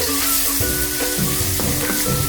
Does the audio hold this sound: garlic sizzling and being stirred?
yes